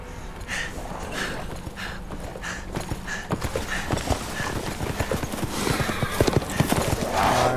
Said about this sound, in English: I see a horsey.